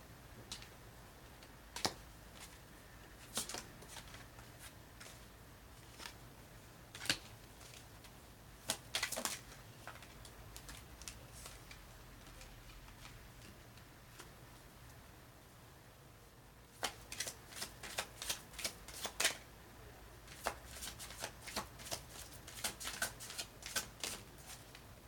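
Playing cards are shuffled and pulled in a quiet room, giving scattered sharp flicks and riffles with denser clusters of snaps toward the end.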